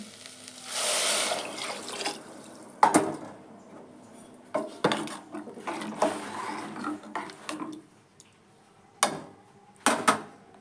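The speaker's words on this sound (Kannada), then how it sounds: "ನೀರು ಹಾಕ್ತಾ ಇದ್ದೀನಿ" Water is poured into a cooking pot for a sprouted horse gram curry, a rushing splash early on, followed by close metallic clanks and knocks of the pot and utensils at irregular intervals, with no talk.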